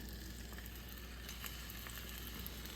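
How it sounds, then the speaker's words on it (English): Panko-coated pork fries in olive oil in a pan, a quiet, steady crackling sizzle with faint pops throughout, no talking. "It heated up. It's got a little sizzle."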